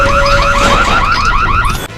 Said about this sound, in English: After breaking the cage around it, the alarm goes off and more bullet bills are summoned